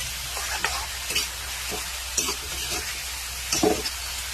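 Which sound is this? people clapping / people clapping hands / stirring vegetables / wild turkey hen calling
stirring vegetables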